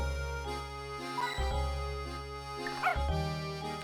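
Rooster the dog in Professor Layton and the Curious Village gives a couple of short barks over steady game music, with no voices.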